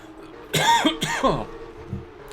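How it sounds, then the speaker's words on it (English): A man coughs twice in quick succession and clears his throat, close and loud over the faint background of a sim-racing esports broadcast of rFactor 2. "So I cough into your living rooms, why not?"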